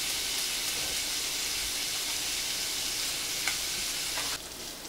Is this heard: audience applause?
no